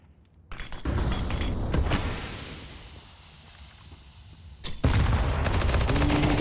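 A P90 submachine gun fires in Counter-Strike on the Dust2 map during a league match, with loud bursts of rapid shots at the start and again near the end amid the game's wind-swept ambience.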